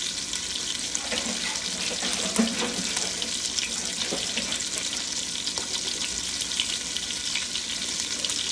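Cabbage being cleaned under a running kitchen sink tap, a steady splashing water flow with faint intermittent clatter, continuous and moderately close, no voices.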